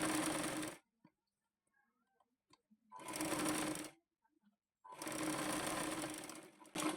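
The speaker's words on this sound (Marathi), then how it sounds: "अशा पद्धतीने शिलाई मारून घ्यायची" A sewing machine stitches blouse pieces together in three loud, close bursts of rapid whirring, separated by near-silent pauses with small clicks as the fabric is repositioned.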